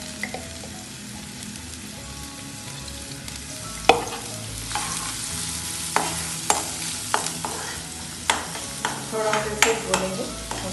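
Chopped onion and chili sizzle steadily in a little oil while being browned for a filling, with repeated sharp stirring scrapes of a utensil against the pan up close.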